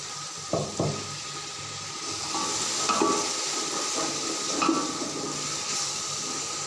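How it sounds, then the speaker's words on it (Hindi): Water is poured into a tomato and red chili masala for chicken pulao, bringing a sustained sizzle and bubbling with a few stirring scrapes in the pan, close and steady. "थोड़ा सा पानी शामिल कर देते हैं।"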